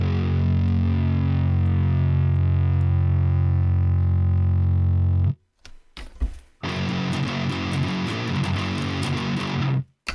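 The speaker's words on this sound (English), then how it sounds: "I have another one which is called Omega Ampworks Granophyte." Heavily distorted electric guitar run through the Neural DSP Omega Ampworks Granophyte amp plugin, a long sustained low chord, then a short choppy break and a fast chugging riff, loud and upfront with no talking.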